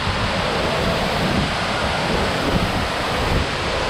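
Tirathgarh waterfall in Chhattisgarh, India, pours with a dense, unbroken rushing roar, loud and close, steady from start to end without speech.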